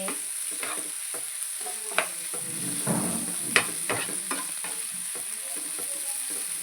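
Goat tripe with tender tamarind leaves, cooked village style, is stirred and fried in a pan: a soft constant sizzle with repeated close spatula scrapes and a few sharp knocks, and no one speaking.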